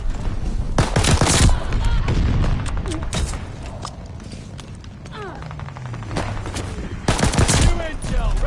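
Bursts of rapid gunfire from the Call of Duty: Vanguard video game, loud and close, in a few clustered volleys with quieter stretches of game sounds and some talking between them.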